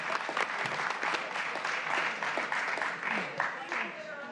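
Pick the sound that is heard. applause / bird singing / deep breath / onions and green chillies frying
applause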